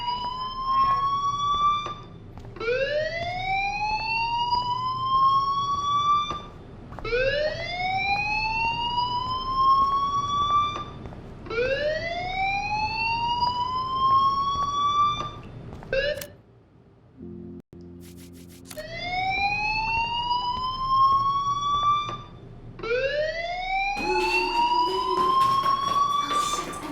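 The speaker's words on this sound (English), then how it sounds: "Hey, do you hear that fire alarm?" A school fire alarm in the video game Life is Strange whoops repeatedly, each rising electronic siren sweep lasting a couple of seconds, loud and close, briefly broken by a pause and buzzing tones before resuming.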